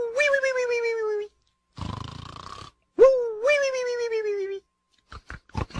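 A cartoon-style voice imitates lazy snoring with drawn-out, gliding vocal tones and a raspy, noisy inhale between them, followed by a few short clicks.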